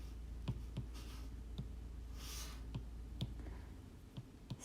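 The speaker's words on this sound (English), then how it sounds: "I'm typing with my Apple pen. It's kind of slow." An Apple Pencil tapping on a tablet screen while typing, faint sharp clicks spaced irregularly over a low steady hum, with no talking.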